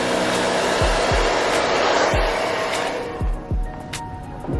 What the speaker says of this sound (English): I know y'all can't hear me because it's blow dryer.